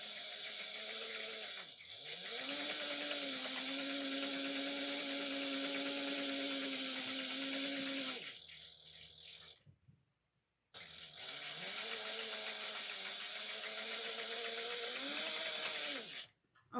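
A sewing machine stitches a commuter tote bag in two long steady whirring runs, the motor pitch rising as each starts, with a brief quiet pause between; close and continuous.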